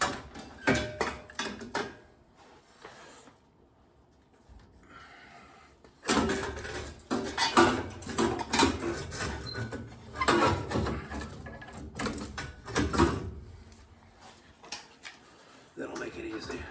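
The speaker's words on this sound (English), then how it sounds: "I'm going to use this wrench to remove the pilot tubing" A wrench works the pilot tubing loose from the gas valve of a Burnham boiler, giving close metallic clicks, taps and scrapes in bursts, with a quiet gap partway through.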